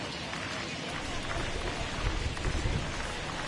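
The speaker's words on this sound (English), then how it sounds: "Really starting to pour now, and the forecast is not showing any signs of a break in the weather" Steady downpour of rain soaking a baseball field in MLB The Show 21, a continuous wash of hiss and patter that swells slightly in the middle, with voices talking over it.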